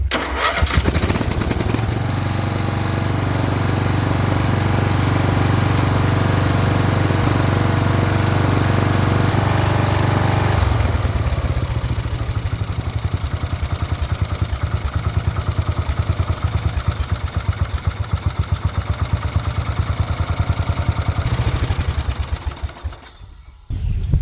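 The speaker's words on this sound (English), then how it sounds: "I think we're always going to have a spit and sputter at idle." A Wheel Horse 211-5 garden tractor engine runs loud and close, first with a deep steady throb, then dropping to a rougher, choppier idle with a spit and sputter, before cutting out near the end.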